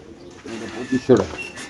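Racer pigeons give a couple of brief, low cooing calls close by, with a voice speaking around them.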